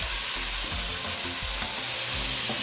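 Rice hitting a hot pan with already fried onions, a loud continuous sizzle and hiss up close, with soft low scraping thumps of stirring underneath.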